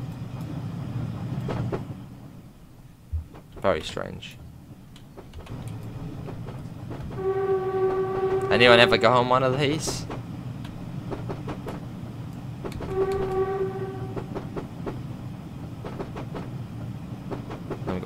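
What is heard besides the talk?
Woodhead Electric train running in Train Simulator video game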